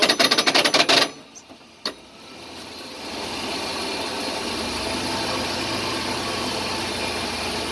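A Jeep/Dodge NP247 Quadratrac transfer case with a fault, heard while driving: a fast rattling clatter for about a second, a thump, then a steady loud drivetrain drone and road rumble.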